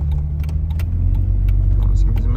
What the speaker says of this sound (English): I am currently driving around Pismo Beach.